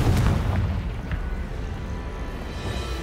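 Confringo explosive spell blast in a Hogwarts video game: a loud booming burst right at the start, decaying into a dense low rumble that carries through the rest, with no talking.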